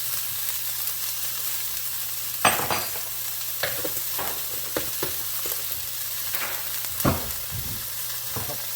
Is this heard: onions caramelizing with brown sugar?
yes